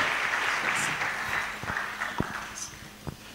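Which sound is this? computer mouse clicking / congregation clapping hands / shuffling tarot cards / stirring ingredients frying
congregation clapping hands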